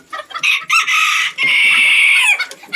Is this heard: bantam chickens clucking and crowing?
yes